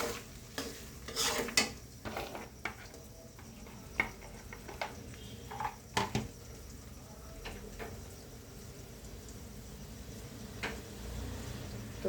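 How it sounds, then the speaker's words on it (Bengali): Dried red chillies frying in oil for a sun-dried oil pickle, with a spoon scraping and stirring the pan in uneven bursts over a low sizzle, no voices. "শুকনো মরিচগুলো দিয়ে আবারও ভালো করে নেড়ে চেড়ে নিচ্ছি পারফেক্টভাবে ভাজার জন্য শুকনো মরিচটা"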